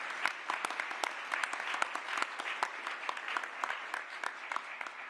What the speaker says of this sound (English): I wanted to make sure we give all of them a round of applause.